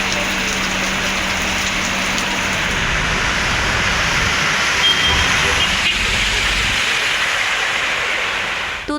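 Heavy rain in Tamil Nadu during Cyclone Ditwah, a loud steady hiss of downpour that persists throughout with no break.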